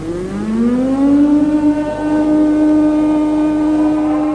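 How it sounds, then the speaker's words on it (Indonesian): A loud siren in Yogyakarta marking the end of curfew wails, its pitch rising over the first seconds and then holding a steady, sustained tone. "Bunyi sirine menandai berakhirnya jam malam di kota Yogyakarta"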